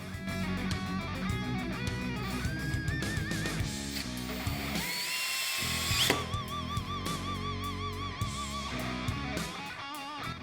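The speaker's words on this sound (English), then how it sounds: "use the self-tapping screws to fasten them to the seat" A power drill or driver runs in steady bursts while self-tapping screws are driven into the seat frame of a RHOX 700 Series golf cart rear seat kit, its whine rising and falling close by with no talking.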